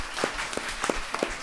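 An audience applauding at a Buddhist monk's question-and-answer talk, with distinct individual claps standing out over a dense, moderately loud bed of clapping from a nearby crowd.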